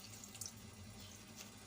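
Water is poured into a grinder jar holding masala spices, a steady close trickle with one small splash near the start.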